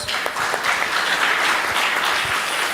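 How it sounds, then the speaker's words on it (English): A crowd at a business workshop breaks into applause, dense, even clapping filling the short stretch at close, loud level without any talk over it. "Can we have a big round of applause?"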